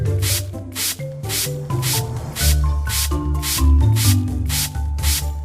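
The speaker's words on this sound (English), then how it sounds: "Let's swipe along the findings with a brush to clean them." Repeated brisk scrubbing strokes, a video-game brush swiping in a steady rhythm over dinosaur fossils, over layered game music tones, close and fairly loud.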